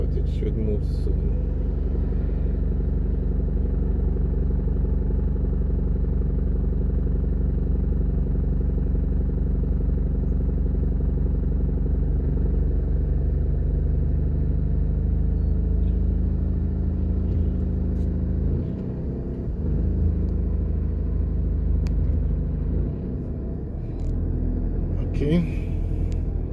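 Low, steady rumble of idling and creeping cars and motorcycles held up in street traffic at Manor Park Plaza, Jamaica, a dense continuous drone with occasional louder engine swells near the end.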